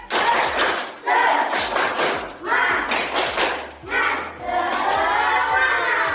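A class does a rhythmic spirit clap, with bursts of claps and thumps in a patterned sequence as voices shout and chant along, loud and close, ending in a sustained group shout.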